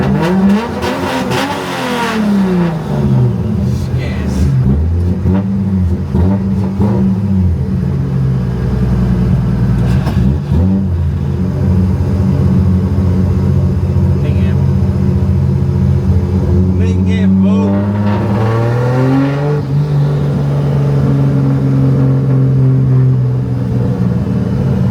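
A drift car's engine revs and accelerates hard at a drift event, loud and close, with rising and falling pitch sweeps and sustained roaring between surges.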